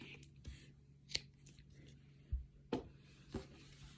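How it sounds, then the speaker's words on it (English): Scissors snipping yarn at the end of a crochet project, a few short, sharp clicks and cuts spaced irregularly against a quiet background. "Get out my scissors."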